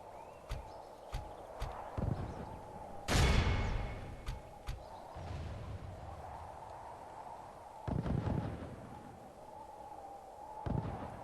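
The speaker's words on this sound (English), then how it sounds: "Let's see about getting that mortar shot that I wanted in here now." Mortar fire in a Medieval 2 Call of Warhammer battle: a loud, deep blast with a rumbling tail in the middle, followed later by a duller boom, over a steady battlefield din with scattered thuds and clatter.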